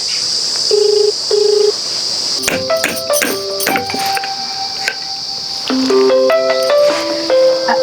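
A telephone ringback tone repeats in short beeps on a phone call, followed by loud, bright electronic tones and clattering.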